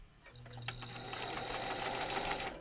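A sewing machine stitches bias-cut fabric with a steady, fast mechanical whir and rapid needle clatter, close and continuous for a couple of seconds.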